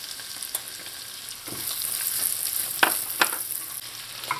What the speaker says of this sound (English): To the butter I'm going in with some chopped onions